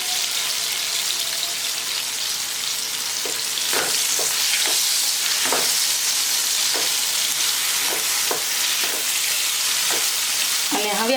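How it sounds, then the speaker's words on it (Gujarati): Garlic sizzles in oil with ridge gourd in a pan while a spoon stirs through it, a steady close frying hiss punctuated by a series of scraping, clattering strokes, loud and with no speech. "લસણ એડ કરી આપણે હલાવી લેવાનું છે."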